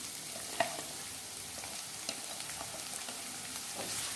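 Chopped onion frying in a pan for Mangalore-style prawn sukka, a soft, steady sizzle with a few light clicks of a spoon against the pan, fairly quiet and without voices.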